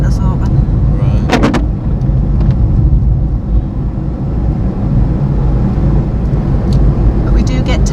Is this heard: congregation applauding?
no